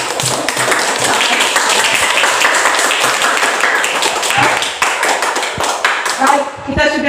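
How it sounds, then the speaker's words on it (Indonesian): A group claps steadily for several seconds, dense and close, with voices chattering underneath before the clapping thins out near the end. "Tepuk tangan untuk kelompok."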